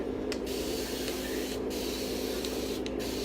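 Three short spritzes from a spray bottle of water onto canvas, spaced about a second apart, over a steady low background hum.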